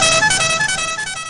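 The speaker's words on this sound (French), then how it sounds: "Des klaxons dont le bruit vous fait sursauter des frayeurs" Vehicle horns blare on a road in one loud, continuous, close honk that holds steady for the whole second and slightly fades at the end, with no voices.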